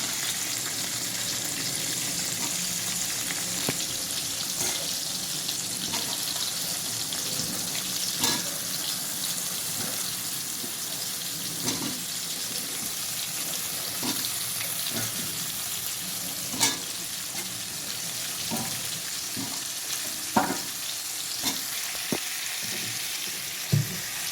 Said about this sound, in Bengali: একটু তেল ছিটলো দেখো